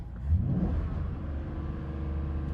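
A car engine, an American car with a knocking engine, is revved up from idle once then holds a steady, moderately loud hum nearby without any voices.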